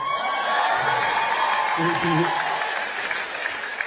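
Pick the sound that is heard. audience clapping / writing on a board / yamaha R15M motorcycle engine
audience clapping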